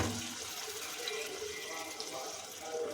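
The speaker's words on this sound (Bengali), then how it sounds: "একটুখানি জল দেবো পোস্ত ধোয়া।" Water left from washing poppy seeds is poured into a cooking masala with a mustard and poppy seed paste and a green chilli, making a soft, steady splashing trickle nearby.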